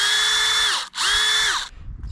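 A power drill bores an upward-angled tap hole into a maple tree, two steady whining bursts of the bit with a brief pause between, close and loud, then stopping.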